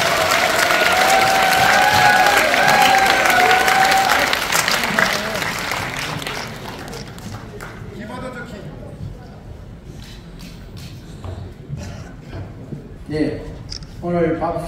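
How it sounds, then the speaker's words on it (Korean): Loud applause fills a ceremony hall at the inauguration of a citizens' association chapter president in Bucheon, strongest over the first few seconds and then thinning to scattered claps as background murmur continues. "뜨거운 박수 다시 한번 부탁드리겠습니다."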